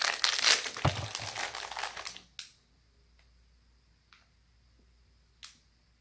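Thin plastic blind-box packaging crinkles and crunches in a dense, close burst for about two seconds, then gives way to near silence broken by a few faint, isolated clicks and rustles.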